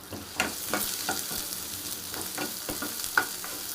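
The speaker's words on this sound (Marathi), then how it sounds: "कांदा छान असं फ्राय करून घ्यायचा। कांदा नरम झाला पाहिजे" Onions frying in a pan for a potato curry give a steady close sizzle, broken by several sharp scraping strokes as they are stirred.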